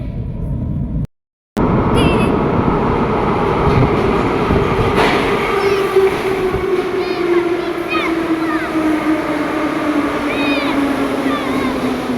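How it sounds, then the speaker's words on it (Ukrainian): A Kyiv metro train pulls into Universytet station with a loud, steady rumble and a falling motor whine. Squeals and rattles sound up close, and a brief gap of silence comes near the start. "здається, поїзд прибуває"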